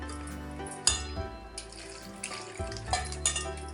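Mushrooms being washed by hand in salted water in a kitchen: quiet sloshing and splashing with a few soft clinks and louder splashes at irregular moments, close by and with no talking.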